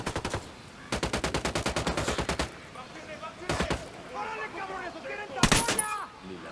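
Gunfire in Ghost Recon Wildlands: rapid automatic bursts crack out in quick, even rhythm, then a pause, a few scattered single shots and another sharp burst, with indistinct voices in between.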